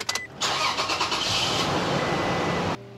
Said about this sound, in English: So we are going to start the truck back up, get it going again